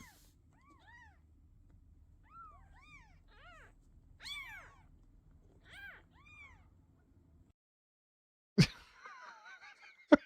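Several cats meow in a video game office, a run of distinct rising-falling meows over a low steady hum, followed by two sharp loud bangs near the end.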